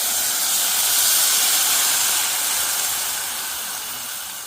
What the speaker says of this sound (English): And then I'm just going to add in my beef broth.